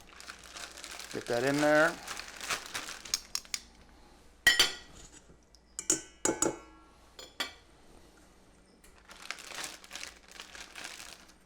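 Plastic Ziploc bag crinkling and rustling in short bursts as a pork tenderloin is pushed inside, close and moderately loud, with someone talking over parts of it.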